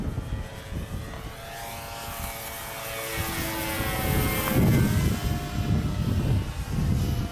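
A giant J Power P-51 Mustang RC plane with foam wings flying at half throttle during its maiden flight, a steady propeller drone that swells louder as it passes nearer, with no talk.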